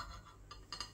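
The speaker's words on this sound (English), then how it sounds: "Right, I've got a knife. I'm just gonna chop it in half." A knife cuts a microwaved Pukka all-steak pie in half, giving a few faint, brief metallic clinks against the dish in a quiet room.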